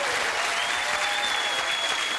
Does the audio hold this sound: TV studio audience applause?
yes